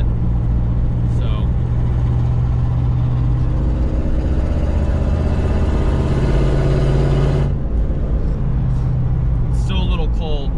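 A car with a 305 small-block Chevy V8 driving in cold weather, its steady loud engine drone holding a constant rumbling note for several seconds before a brief shift and resuming, with faint clicks over the top.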